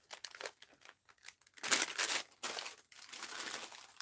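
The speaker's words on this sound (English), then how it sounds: "Let's get out a piece of release paper here that I can" A sheet of release paper is pulled out and handled for mixed-media art journaling, giving close, intermittent crinkling bursts with a louder rustling crush in the middle and softer rattling toward the end.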